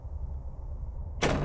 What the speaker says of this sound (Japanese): 扉の、扉の音だけでびっくりしちゃったじゃん。